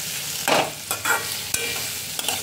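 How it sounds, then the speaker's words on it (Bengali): Chopped onion frying in mustard oil in a pan, a steady close sizzle broken by a few louder stirring scrapes and spatters, with no voices. "পেঁয়াজটা এখন তেলের মধ্যে ভালো করে ভেজে নিচ্ছি।"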